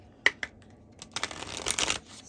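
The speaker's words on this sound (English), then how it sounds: "we are going to go ahead and shuffle out a goddess for each one" Tarot or oracle cards being shuffled for a goddess-themed pick-a-card reading: a couple of sharp riffling snaps, then a longer, denser flurry of papery shuffling, close and alone without talk.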